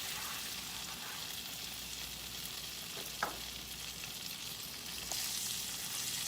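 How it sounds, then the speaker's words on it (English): Onions sizzling in melted butter in a pan for a potatoes-and-onions supper, a steady close hiss with one brief clink partway through and a slightly louder surge of frying near the end. "I'm going to go ahead now and add my onions to that butter."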